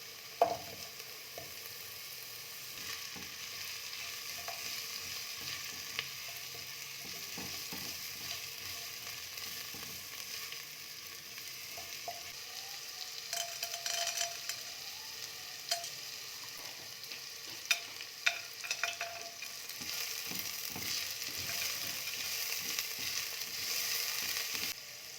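Food fries in a pink Carote 22 cm non-stick pan over a low flame, giving a steady soft sizzle with occasional light clicks and scrapes of stirring. No one talks.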